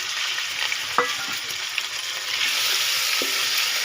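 Washed chicken pieces fry in a pan with a steady broadband sizzle, punctuated by a few sharp clinks and scrapes of a utensil stirring, with no talking.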